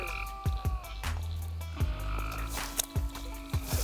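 Frog croaks repeatedly at a pond bank during a night of frog gigging, loud repeated calls with a few harsh bursts over a low steady background, with no talking.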